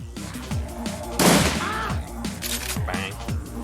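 Guards open fire in the PC video game Shadowrun Returns, with a run of repeated gunshots, one big burst near the middle, and a pulsing game soundtrack underneath.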